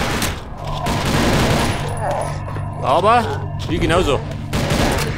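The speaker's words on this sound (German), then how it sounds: "Die schießen scharf." Gunfire in the shooter game TimeShift crackles in rapid bursts under a German-speaking voice, with sharp impacts and whooshing effects amid a steady mechanical hum.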